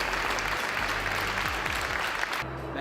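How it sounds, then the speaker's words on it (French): A hall audience gives a sustained round of applause for the new board of directors of M-Mode, an industrial cluster. The clapping is dense and steady over a low hum, then tapers off near the end. "une bonne main d'applaudissements pour votre nouveau conseil d'administration de M-Mode"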